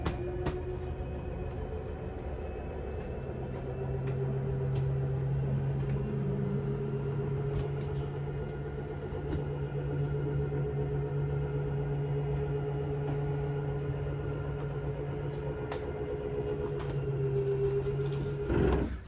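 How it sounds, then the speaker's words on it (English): The front slide-out motor of a Jayco Jay Flight 34RSBS RV runs with a steady, close mechanical hum and a low grinding drone that holds for about twenty seconds, then ends with a brief clunk. "it's going to make a grinding sound when it's all the way out"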